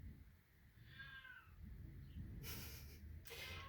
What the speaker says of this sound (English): I don't know if you can hear my cat meowing in the background